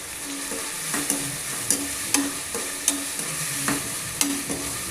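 Green chilies fry with onion and tomato in a pan while the mix is stirred, a steady sizzle broken by regular sharp clinks of a spoon on the pan, close and fairly loud.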